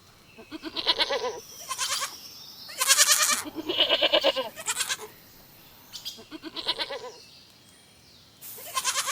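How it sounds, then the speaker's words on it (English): A goat bleats several times in wavering, quavering cries, near and fairly loud, separated by short quiet gaps. "goat,"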